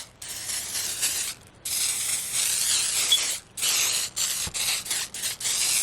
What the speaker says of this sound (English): I'm just going to take my spray glue and spray all over all the glitter